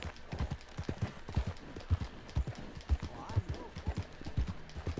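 Horse hooves clip-clopping at a walk in Red Dead Redemption 2, an irregular series of soft, near thuds under a quiet background.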